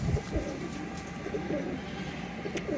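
A breeder pair of high-quality pigeons, a male and a female, coo softly in soft repeated low burbles against a steady background, with a faint voice somewhere in the mix.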